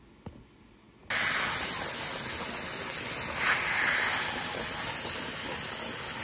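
Steam hissing steadily from a pressure canner on a stove while canning cabbage, starting abruptly after a quiet moment and then a loud, continuous broadband hiss close by, with a slight surge midway.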